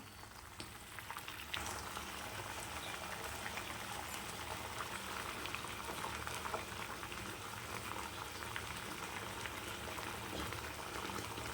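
Egg gravy simmers untouched in a pan, a soft, continuous bubbling that stays even and steady throughout.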